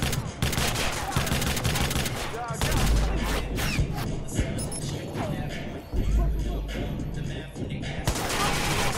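Gunfire in Watch Dogs, repeated sharp bursts of shots and booms in fast clusters with game sounds between them, and someone talking over parts of the action.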